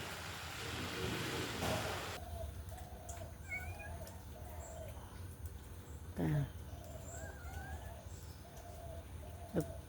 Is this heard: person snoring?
no